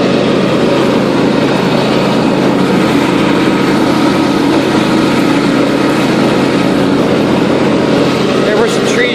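A John Deere LA150 lawn tractor mows at night, its engine a loud, steady, close droning roar that holds unbroken for the whole stretch with no pauses or changes in pitch.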